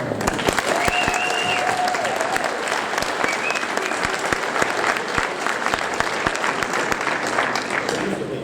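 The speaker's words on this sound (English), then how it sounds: "So let's again give all of our veterans a round of applause." Crowd applause for veterans at a Veterans Day parade, steady dense clapping from many people with a few sharp nearby claps standing out, continuous for several seconds.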